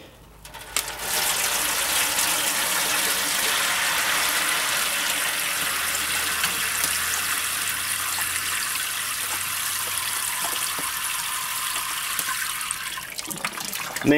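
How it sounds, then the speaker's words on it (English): Water pours steadily from a tap or hose into a water pan set inside a Big Green Egg ceramic smoker, a continuous loud rushing splash lasting over ten seconds, with no talk. "I get a water pan and put it in here and fill that with water"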